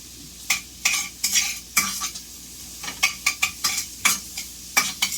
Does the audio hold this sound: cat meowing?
no